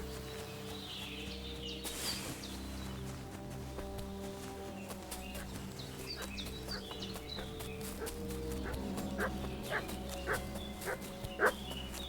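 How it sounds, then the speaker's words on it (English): In the Kingdom Come Deliverance 2 video game, a dog barks and yips in scattered short bursts over a quiet backdrop of game music and ambience, with the barking growing busier toward the end. "What's that dog making such a fuss about?"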